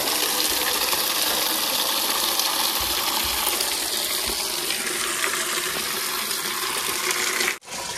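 Water gushes steadily from a tap into a bucket, a continuous broadband rush filling nearly the whole stretch before cutting off abruptly near the end.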